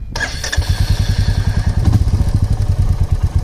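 A new motorcycle starts up and then runs with a loud, close, steady engine putter that rises into a rhythmic throb, with some mechanical clatter and no talk.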